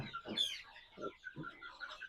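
Light Brahma chickens, a rooster and two hens, cluck in a few short, fairly close bursts with brief pauses between them and no talking.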